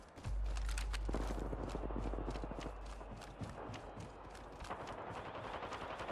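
Bursts of gunfire crack through a video game firefight, sharp repeated shots over a steady rumble, with footstep-like patter mixed in and no voices.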